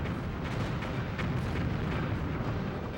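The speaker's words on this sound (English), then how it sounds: "Bank shot a grenade in there because there's a crap ton of mines surrounding a nuke." Booming blast from a grenade in the N64 game BattleTanx, a dense, loud rumble that stays fairly even for a few seconds, with no talking over it.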